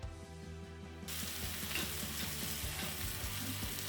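Beef cubes hitting hot melted lard for a 1969 Hungarian goulash, a loud sizzle bursting up suddenly and holding steady, with rhythmic mechanical clicking running underneath throughout.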